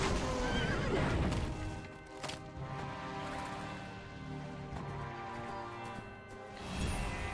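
A horse in Heroes of Might and Magic 5 lets out a loud neigh at the start, then hoof and battle sounds follow under a sustained musical background.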